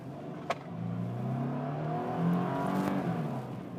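A car engine accelerates smoothly, its hum rising steadily in pitch, heard from inside the vehicle with a faint click near the start.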